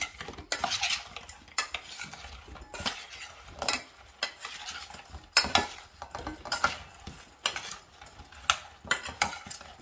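Repeated scraping and clattering of potatoes being stirred and tossed with oil in a bowl, with irregular bursts of rustling and clinks.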